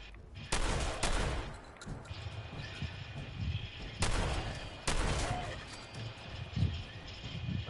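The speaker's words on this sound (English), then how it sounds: "They're going down with the shotgun finally." A shotgun fires at ghouls in Fallout 4, with several sharp, loud blasts spaced a few seconds apart and a crowded mix of game combat noise between them.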